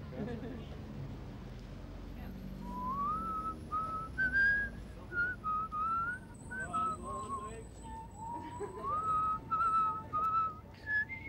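A person whistles a wavering tune in short phrases, with background voices and room noise underneath.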